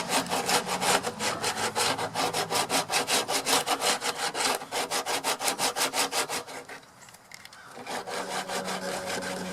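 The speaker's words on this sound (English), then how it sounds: "So I'm using some really coarse sandpaper now just to give a rough shape to this." Coarse sandpaper rasps back and forth over Bondo body filler on a Buick, a steady run of rhythmic scraping strokes, close and loud, with a brief pause near the end before the strokes resume.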